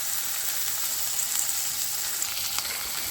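Bacon frying in a thin layer of its own rendered fat, a steady close hiss and crackle without talk.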